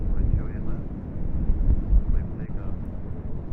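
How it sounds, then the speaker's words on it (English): An Embraer E175 airliner passes near a city on a windy day, a steady low rumble of jet engine noise mixed with microphone wind buffeting, with faint voice-like sounds in the background. "we got an E175 that's going to come by the city"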